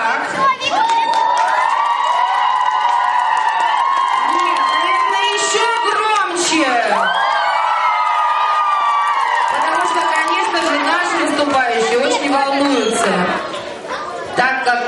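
A crowd of children at a summer camp Mr. and Miss pageant cheers, whoops and chatters loudly as one continuous wave of noise, with a voice talking over it.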